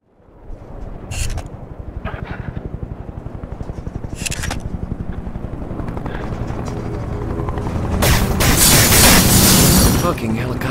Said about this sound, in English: Fucking helicopters again.